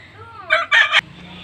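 A rooster crows loudly nearby, one short burst followed by a longer drawn-out call, with quiet background before and after.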